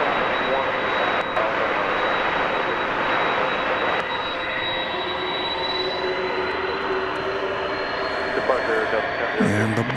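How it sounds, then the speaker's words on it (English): A UPS Boeing 767 at DFW Airport at night makes a steady distant jet roar that swells through the whole stretch, with a high turbine whine running underneath. "UPS 767 there."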